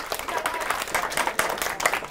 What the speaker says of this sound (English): Round of applause for this young lady